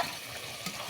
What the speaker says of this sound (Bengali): এই দেখো বন্ধুরা, এঁচড়ের মশলাটা কষিয়ে নিয়েছি। দিয়ে এবার এঁচড়টা দিয়ে দেবো,